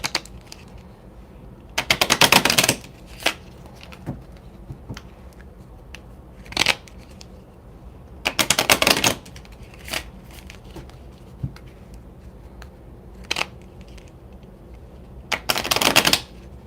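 A deck of tarot cards is shuffled in three separate riffling bursts, each about a second long, close and crisp, with faint taps and handling between them and no voice.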